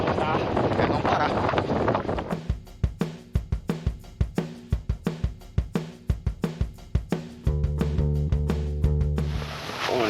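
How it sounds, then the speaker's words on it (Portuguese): Strong wind buffets the microphone on a beach, roaring at first and then coming in repeated rough gusts and flaps, with a voice speaking at points. "E tá um vento louco."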